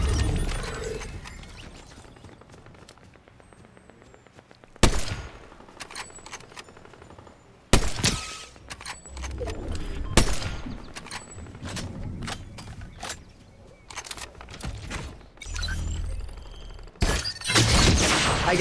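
Sniper rifle gunfire in the Fortnite video game, several sharp, loud cracking shots at irregular intervals over a busy bed of game sounds, with no clear talk.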